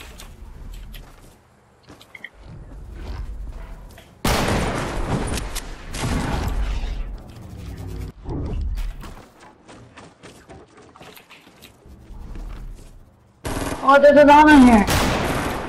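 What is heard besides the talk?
gunshots from a video game (Playground)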